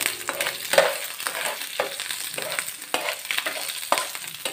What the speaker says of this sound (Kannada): ಪ್ಯಾನ್ ಇಟ್ಟು ಬಿಸಿ ಮಾಡಿಕೊಂಡು ಎಣ್ಣೆ ಕೂಡ ಹಾಕಿ ಸ್ವಲ್ಪ ಜೀರಿಗೆ, ಆಮೇಲೆ ಸಾಸಿವೆ, ಆಮೇಲೆ ಸ್ವಲ್ಪ ಬೆಳ್ಳುಳ್ಳಿ